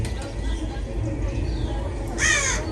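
A raven caws once near the end, a loud harsh call over steady background noise, used as a sound effect in a retelling of the Noah's ark story.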